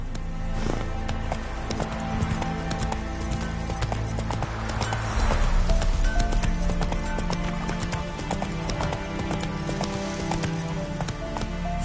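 Roach the horse galloping in The Witcher 3: Wild Hunt, rapid rhythmic hoofbeats drumming steadily and close throughout, with game music and ambience layered underneath.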